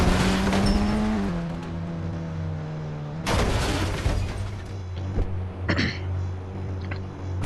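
Video game car engine droning steadily with a pitch shift, then loud impacts, crashes and bursts that resemble gunfire or collisions, alone with no talking, in a dinosaur-themed driving game.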